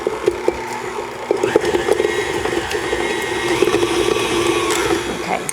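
An electric mixer whirs steadily and close as it quickly beats butter in a bowl before sugar goes in for chocolate chip cookies, with faint clicks and scraping against the bowl and no talk.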